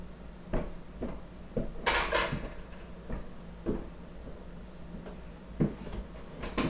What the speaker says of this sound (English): I'm going to go ahead and add that to my casserole dish